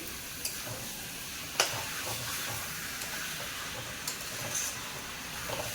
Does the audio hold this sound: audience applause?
no